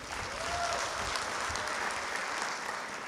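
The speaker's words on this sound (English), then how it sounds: "Can we give them a big round of applause?" The audience at a spring university graduation ceremony breaks into steady, sustained applause, a dense wash of many hands clapping at moderate distance that fills the room with no break.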